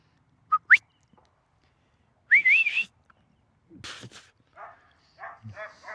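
Two short sharp whistles, then a rising warbling whistle, followed by a dog's distant barks and whimpers in open space.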